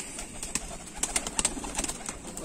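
Sialkoti rooftop pigeons of the pure Batera breed coo and flutter in a steady, busy chorus close by, with sharp chirps and wing noise over a constant background hiss.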